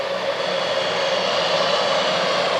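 A turbocharged Ford engine on a super stock pulling tractor roars loud and continuous at a 1986 indoor tractor pull, its high whine and steady rush unbroken by voices.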